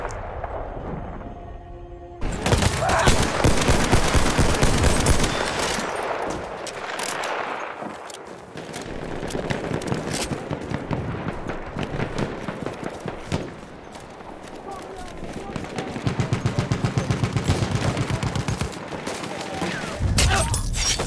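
Bursts of machine gun fire rattle through a Battlefield 1 multiplayer match on the Achi Baba map, rapid automatic volleys near and loud with pauses, distant shots and battlefield clatter, a voice occasionally speaking over the gunfire.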